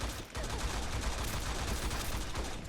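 Rapid gunfire in the T3 Arena shooter sounds in a dense, continuous burst of shots, loud and steady, with no voices over it.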